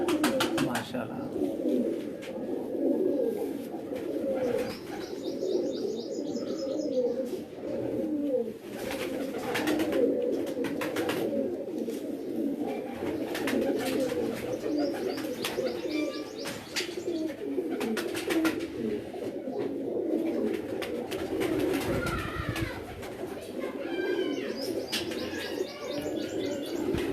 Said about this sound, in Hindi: ये भी इनके टूर्नामेंट में उड़ने वाला कबूतर है जी माशाल्लाह, परवाज़ी कबूतर है।